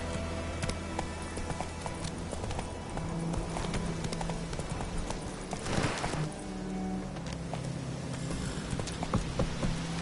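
Geralt's horse Roach galloping in the video game The Witcher 3, a steady rhythmic clip-clop of hooves running at pace over a low constant background, close and moderately loud throughout, with no one speaking.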